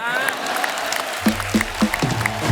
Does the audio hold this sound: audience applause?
yes